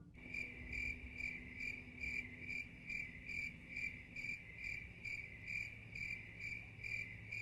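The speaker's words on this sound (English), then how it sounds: "Crickets." Crickets chirping in a quiet night setting, a steady, regular pulse of shrill repeated chirps at moderate distance over a faint low rumble, with no talking.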